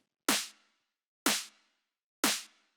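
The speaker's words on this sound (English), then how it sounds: "Really nice, punchy and gritty snare." Three punchy, gritty snare drum hits repeat in a steady loop about a second apart, each a loud sharp crack with a short noisy decay, standing alone in a dance track production.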